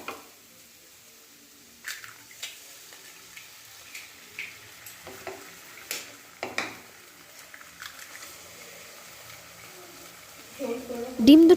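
Beaten eggs frying in oil in a wok are stirred with a spatula, giving soft, faint scrapes and taps at irregular intervals, with a light sizzle underneath and a voice coming in at the end.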